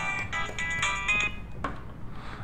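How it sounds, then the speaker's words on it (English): A mobile phone ringtone rings with a bright, repeating melodic pattern, fairly loud and steady throughout, then cut off abruptly near the end. "Oh god, that's my phone. My phone is ringing."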